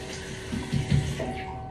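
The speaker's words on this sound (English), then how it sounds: "Sorry if you hear this, it's just my tap." A bathroom tap runs in a short, steady stream with soft splashing, close and continuous, with no one talking.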